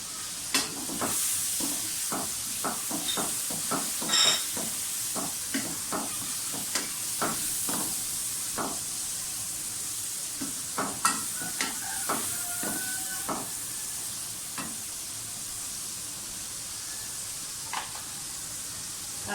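Onions, garlic-ginger paste and chicken fry in a pan for vegetable biryani, a constant sizzle broken by repeated sharp clicks and scrapes of a spoon stirring, with no voices.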